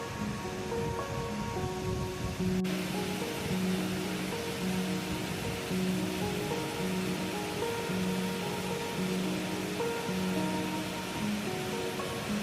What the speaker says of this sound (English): the bigger waterfall.